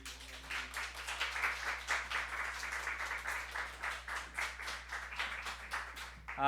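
Church congregation at Sunday worship clapping in a steady rhythmic beat, moderately loud and fairly close, with no talking over it.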